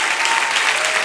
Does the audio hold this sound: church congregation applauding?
yes